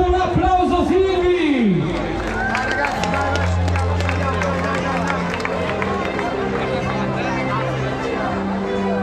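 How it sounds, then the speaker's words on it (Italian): A crowd at a Lega party rally in Silvi, Teramo, claps in dense, continuous applause close by, with chatter and voices mixed in and a voice talking over it at the start. "Un applauso Silvi!"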